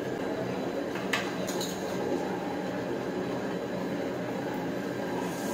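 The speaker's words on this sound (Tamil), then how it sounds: "மாவு ஓடுற சவுண்டு தான் கேக்கு." A wet grinder churns batter with a steady, unbroken rumbling hum that stays at one level throughout, with a few faint clicks near the start.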